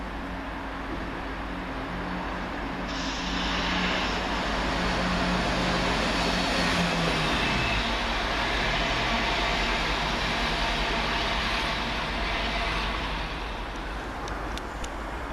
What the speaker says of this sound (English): From behind the freight cars again is 17104, working the 1416 Cross Country service from Birmingham New Street to Stansted